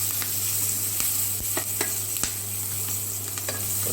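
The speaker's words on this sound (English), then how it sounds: "I'm just waiting for the veggie to be sauteed" Capsicum sautés in a pan with turmeric and red chili powder, making a continuous close sizzle broken by brief scrapes and clicks from stirring, over a low steady hum, with no talking.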